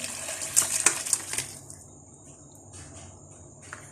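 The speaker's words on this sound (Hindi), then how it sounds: "और अब इसमें जो हड्डियां हैं वो भी मैं अलग कर लूँगी और यखनी को छान लेती हूँ।" Beef yakhni broth is poured through a strainer, pouring and splashing close by for about a second and a half before fading to a faint trickle and drips, with no talk.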